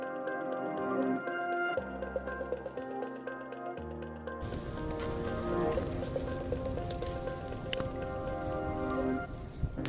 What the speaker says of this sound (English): While on the grill, we will cook our trout using a fish grill basket.